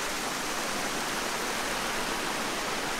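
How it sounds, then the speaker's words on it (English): Water from a small mountain creek, swollen after days of rain, rushes in a steady dense hiss, close and continuous, with no voices. "First little creek of today."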